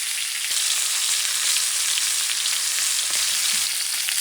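Butter melts and sizzles in a pan with garlic and rosemary, a steady, close, dense crackle that stays fairly even throughout, with no one talking.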